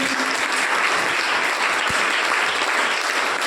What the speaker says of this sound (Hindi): उन सभी छात्राओं के लिए एक बार जोरदार तालियां